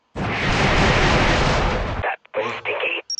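Air strike explosions in the mobile game Kick The Buddy: a loud, continuous roaring blast for about two seconds, then a few short choppy bursts.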